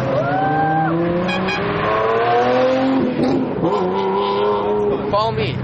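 Lamborghini supercars, among them a Murcielago, Diablo and Gallardo, at a Sunday supercar meet in Calabasas rev and accelerate loudly with rising, swooping engine tones, and voices mix with the engine noise.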